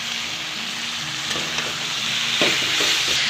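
Chicken pieces and elephant apple are stirred through a frying spice paste, a constant sizzle broken by a few scraping spoon strokes against the pot, close and clear, without speech.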